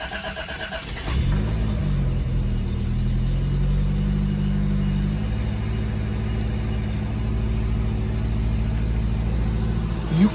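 A 1985 Toyota Tercel turns over and fires from cold, settling into a loud, steady idle rumble close by with slight wavering in pitch, no voices heard.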